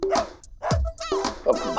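A dog barks in a TV comedy household scene, sharp yips and barks mixed with raised voices talking over and between them, close and fairly loud.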